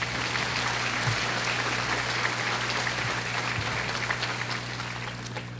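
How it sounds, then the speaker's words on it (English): Graduation audience at a high school ceremony breaks into steady, sustained applause, a dense wash of many hands clapping continuously through the whole stretch with no voices on top. "Give them a round of applause as well"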